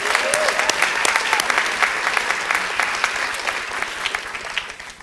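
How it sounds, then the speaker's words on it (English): An awards ceremony audience breaks into loud applause for returned Peace Corps volunteers, sharp claps and a few whoops sustained for several seconds before tapering off. "can we give them a round of applause also?"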